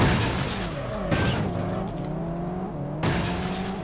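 A slow car's engine hums and shifts pitch while driving in a police chase video game, steady and close, with swelling revs and a couple of louder surges.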